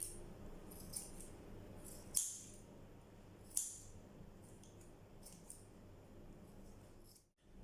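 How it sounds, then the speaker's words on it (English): Scissors snipping the edges of a giant handmade rose flower, a few faint sharp cuts spaced a second or so apart over a quiet room background. "I just cut the edges so that it can open up for me like"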